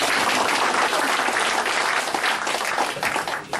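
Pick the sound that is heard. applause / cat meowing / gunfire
applause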